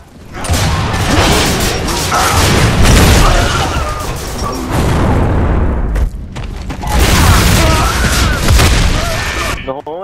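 Several loud, heavy grenade blasts in an online shooter match burst out in quick succession, followed by a brief lull and another crashing wave, with talk partly underneath.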